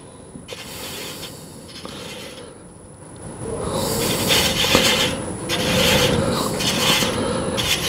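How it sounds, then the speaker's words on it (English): Thread chasing tool cutting a wooden workpiece on a lathe, a steady close scraping and rasping that grows louder and denser partway through, continuous without talk. "I'm rotating around this way to get that lead tooth to cut."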